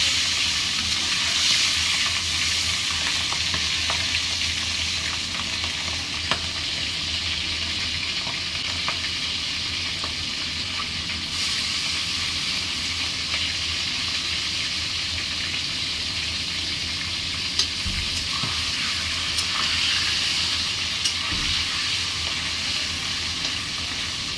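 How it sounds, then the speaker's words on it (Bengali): Tengra fish sizzle in hot oil with a steady, dense crackle that holds throughout, a few sharper pops standing out now and then. No voices. "ট্যাংরা মাছগুলো এবারে দিয়ে দেবো তেলে।"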